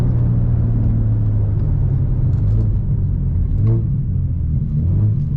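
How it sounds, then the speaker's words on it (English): A BMW 335i with a big turbo and 3.5-inch exhaust drones loudly from inside the cabin, a steady deep engine rumble with brief shifts in pitch as it downshifts. "Get y'all some downshifts."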